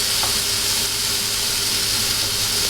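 Onions frying in olive oil in a pan, a steady close sizzle and hiss running unbroken throughout with no talk.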